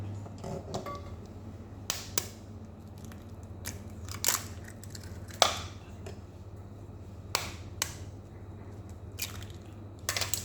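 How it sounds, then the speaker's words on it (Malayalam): Three eggs are cracked and poured into a bowl: several sharp cracks and light wet clicks over a steady low hum, spaced irregularly, with soft sloshing between them; no voices. "മൂന്ന് മുട്ട പൊട്ടിച്ച് അതിനകത്തോട്ട് എല്ലാം അതിനകത്തോട്ട് ഞാൻ ഒഴിച്ചിട്ടുണ്ട്"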